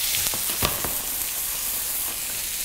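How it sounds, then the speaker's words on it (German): A sea bream fillet sizzles in a pan with olive oil and butter, a close, steady crackling hiss with a few sharper pops early on and no talking. "Und jetzt legen wir zuerst das Fleisch in die Pfanne."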